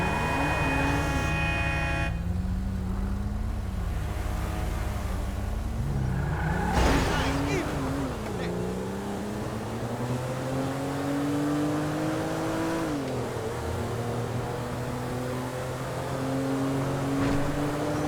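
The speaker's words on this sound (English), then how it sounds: "Oh, you don't see me driving? My pretty automobile." Car driving in the video game GTA V, a steady engine drone rising and falling with revs over eighteen seconds, with a brief burst of other sounds early on and a loud knock near seven seconds.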